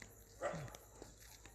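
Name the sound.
dog barking at night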